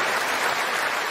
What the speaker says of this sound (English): Applause, Tom.